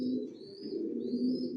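Racing pigeons coo softly inside a loft, a low steady rolling murmur with faint higher chirps over it, continuous and close.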